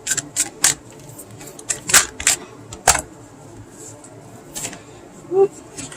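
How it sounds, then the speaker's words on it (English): Tarot cards are shuffled in a series of sharp, crisp riffling snaps and taps at irregular intervals, close and clear over low background noise. "I think I'm gonna have to give this one a shuffle here."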